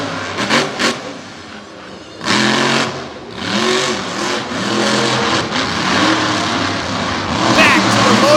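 The Raising Cane monster truck, a big Ram driven by Buddy Tompkins, revs hard on the infield of an outdoor monster truck event, loud surging engine bursts rising and falling under a commentator's voice.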